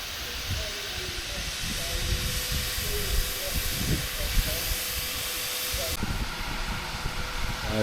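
A Taff Vale Railway steam locomotive, number 85, hisses loudly as it pulls away at a steam gala on the Keighley and Worth Valley Railway, with rhythmic chuffs and clanking underneath and a steady whistle-like tone.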